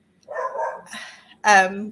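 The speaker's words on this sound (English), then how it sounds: "you can hear my dogs in the background" Dogs barking in the background of a home during a conversation, with a short burst of barking near the end following a quieter stretch where someone speaks.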